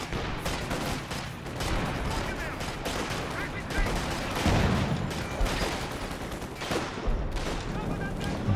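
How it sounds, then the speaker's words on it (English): Artillery shells pound the center of the map in Company of Heroes 2, a dense barrage of overlapping booms and crackling impacts with several heavier blasts rising through the continuous roar of battle. "Some major artillery into the center."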